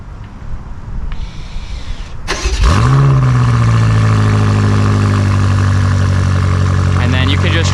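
A 2023 BMW M8 Competition Gran Coupe fires up after quiet background rumble: a sharp, loud starter catch and rev flare, then a deep, steady burbling idle that holds to the end, with no talking.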